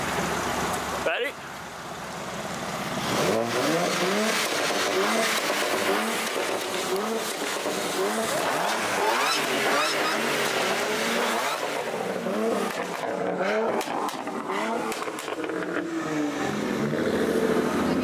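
A car revs and its tires squeal in a loud, continuous burst of engine noise and skidding that lasts throughout, with an abrupt start after a brief dip and no clear speech over it.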